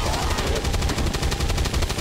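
A minigun in XCOM 2 fires a continuous, rapid stream of loud, evenly spaced shots, dense and unbroken throughout.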